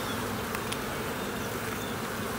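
Honey bees buzzing loudly during a hive inspection, a dense, steady close-up hum of many bees with no pauses.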